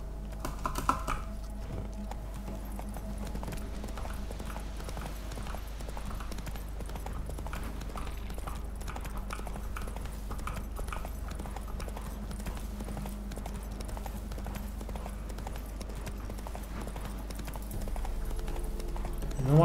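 The horse Roach trotting in The Witcher 3: Hearts of Stone, its hoofbeats clopping in a steady rhythm throughout over a low ambient hum, with a sparse voice now and then.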